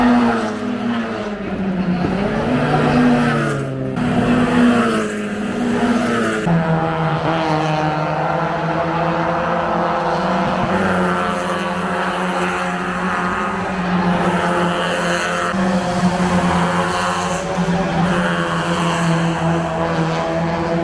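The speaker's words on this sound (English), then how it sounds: "right now behind me, either the first or second stage of the GAZOO racing circuit in Thailand is taking place" Race cars run at a Toyota GAZOO Racing city circuit event in Phuket, Thailand, with loud sustained engine roar rising and falling as cars pass nearby, and a dense drone that never lets up.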